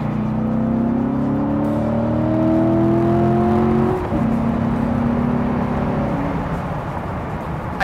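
A 2014 Chevrolet Corvette Stingray Convertible accelerates in third gear through a tunnel, its engine note rising steadily, falling briefly at a shift, then climbing again, loud and close with no talking.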